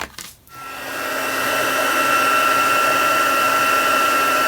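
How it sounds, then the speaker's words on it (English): A heat tool switches on after a brief click and blows steadily over an art journal page, its loud, even whirring hum with a constant whine holding to the end. "So I'm just going to heat set this."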